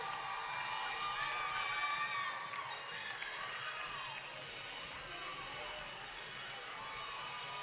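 A sold-out crowd at a women's professional ice hockey game in Warrior Ice Arena cheers and shouts, loudest at first, then easing into a steadier murmur of voices and whoops.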